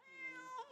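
A pet cat gives one soft, drawn-out meow that rises and then falls, faint and brief, heard alone without talking.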